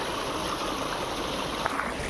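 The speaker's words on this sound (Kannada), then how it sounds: "ಹಂಗೆ ಹರಿತಾ ಇದೆ ನೀರು" Stream water flowing steadily on a family day trip near Mysore, a broad continuous rush that fills the short clip evenly, close and fairly loud, with no talk.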